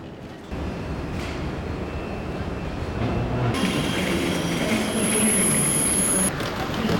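A train rolls along with a steady rumble of wheels on rails and a sustained high metallic squeal of the wheels partway through, loud and close as if heard from on board.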